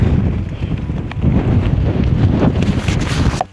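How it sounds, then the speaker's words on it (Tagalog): Strong wind on the summit of Cadair Idris mountain buffets the microphone in loud, continuous low rumbling gusts that surge and ease for several seconds. "Tapos sobrang lakas ng hangin."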